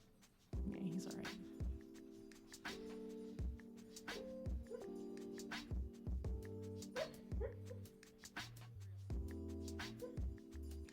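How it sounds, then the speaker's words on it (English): Pet dog Zeke makes a string of soft, breathy boofs, short whimpers and whiny yips indoors, in a broken pattern of separate vocalizations, fairly close and not loud, with a person speaking quietly at times. "What a mess my dog is."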